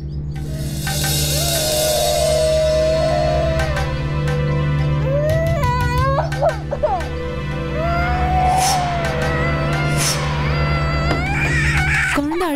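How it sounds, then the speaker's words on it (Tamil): A small child cries continuously in a TV serial scene, wailing in long rising and falling sobs close up, with a steady musical drone beneath and brief adult speech in places. "குழந்தை அழுதுகிட்டே இருக்கானே,"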